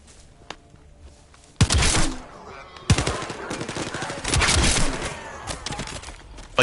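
Automatic gunfire in The First Descendant video game breaks out after a quiet start: a single early shot, then loud sustained bursts with sharp cracks and rattling volleys, close and dominant.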